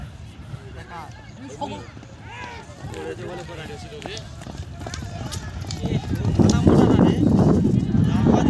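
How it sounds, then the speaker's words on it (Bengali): Hooves of galloping horses drum rapidly during horse training at Chanakkapur, beneath loud, excited talking, the thudding growing heavier and nearer toward the end. "পরস্পর তিনটে ঘোড়া এলো নিশানায়"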